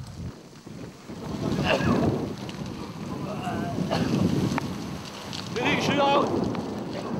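Strong wind gusts roar across the microphone during a forest fire near Lucéram, a steady rushing blast with brief distant voices rising over it.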